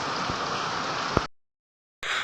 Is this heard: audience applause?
no